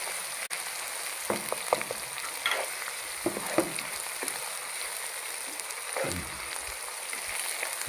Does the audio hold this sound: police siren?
no